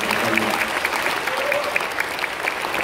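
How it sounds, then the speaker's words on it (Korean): A lecture audience in Gwangju claps warmly for the city mayor, a steady dense wash of applause filling the whole stretch with a faint voice briefly over it at the start. "다시 뜨거운 박수 한번 부탁드립니다."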